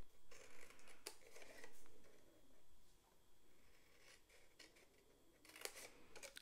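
Scissors cut cardstock along a score line with a few quiet, close snips and crisp crunches separated by pauses, all very faint.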